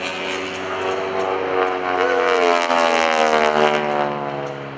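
A Stearman biplane's radial engine drones loud and steady through a hammerhead stall at the Greenwood Lake airshow, its pitch shifting as the aircraft climbs, hangs and turns, with no talking over it.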